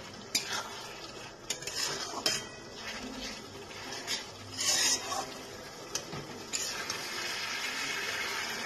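Chicken curry paste of cumin, garlic and whole garam masala is stirred and fried in a pan on a gas stove. A spoon scrapes and clinks against the metal in irregular strokes over a soft, close sizzle.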